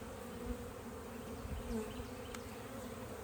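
Honey bees at an opened hive split hum in a dense, steady buzz that stays close and constant, with faint handling bumps and no voices.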